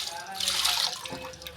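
Fish being washed again in clean water for a Tamil meen kulambu, water splashing and running in a sink basin at close range with steady hissing flow throughout.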